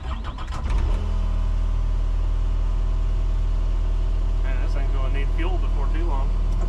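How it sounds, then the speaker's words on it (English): Skid steer engine running at a loud, steady idle with a deep, constant low rumble throughout, and a person talking over it in the first second. "So we're gonna jump in the skid steer here, dump this in the gravel pile"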